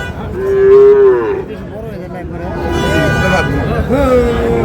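A 13-14-month-old Sahiwal bull moos loudly in a long, drawn-out call, then lets out a second lower moo later, with people talking nearby between and under the calls.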